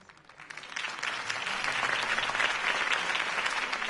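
A video game crowd claps and cheers steadily, the applause swelling and holding at a lively, loud level.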